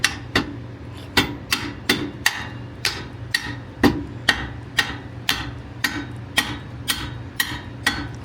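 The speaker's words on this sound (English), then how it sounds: "give it a little bit of hammer" About a dozen sharp metallic hammer strikes drive a bolt in during an air suspension install on a 2024 Nissan Z, landing at a steady, even pace, each blow crisp and close, with no talking.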